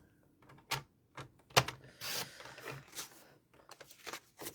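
A paper trimmer blade slides across a sheet of paper, giving short, soft scraping swipes and faint clicks from the trimmer. The sounds are quiet and close, with no voices.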